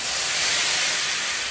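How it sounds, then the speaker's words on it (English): Boiling water is poured into a hot pot of Jamaican curry goat, setting off a loud, steady hissing sizzle of steam up close. "Adding some boiling water to it."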